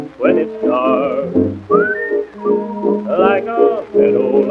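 Melodic whistling carries the tune of a song in a 1926 recording, with loud, close, clear phrases and sliding pitches over faint accompaniment.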